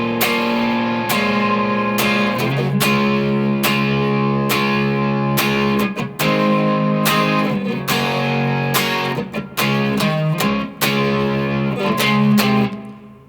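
Distorted electric guitar plays the chorus of a song with loud, steady strummed chords and short breaks between them, filling the whole stretch with no talking.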